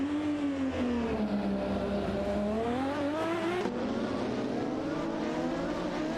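Race car engines roar continuously in a racing video game, with droning tones that rise and dip as the cars speed up and ease off, loud and steady throughout.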